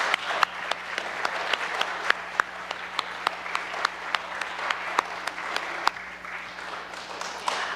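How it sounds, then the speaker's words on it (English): Applause from a family-night parish audience honouring catechists, a steady patter of many hands with sharp individual claps standing out, moderately close and sustained throughout. "So let's give them a huge round of applause."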